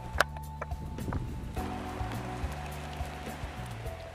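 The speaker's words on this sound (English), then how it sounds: "The rain's still on, and the flowers are dripping." Winter rain falls on wet cyclamens and a last daffodil on a mountainside in the Holy Land, a steady soft patter with scattered close drips and no talking.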